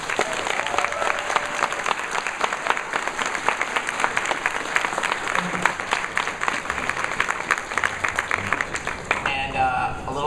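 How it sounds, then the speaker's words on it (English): A convention panel audience at New York Comic Con 2011 claps for the panelists, a sustained dense round of applause lasting about nine seconds before tapering off as a voice begins. "Can we please give them a round of applause once more?"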